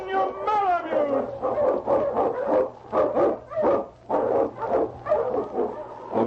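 A Malamute sled dog, a lead dog on a trail through snow, gives a run of close, loud, rhythmic barks and yips with howling, whining tones. A low hum runs underneath.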